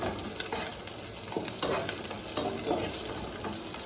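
Chopped capsicum frying in oil crackles and sizzles close up while it is stirred repeatedly, with bursts of spatter and scraping in an uneven rhythm.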